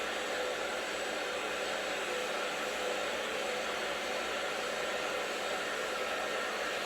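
A hair dryer blows steadily and loudly while short hair is being blow-dried for volume, a constant broadband roar running unbroken from start to finish with no voices.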